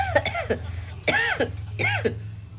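Three harsh coughs from someone with a cold come in a row, each a short burst spaced about half a second apart, close and fairly loud over a low hum.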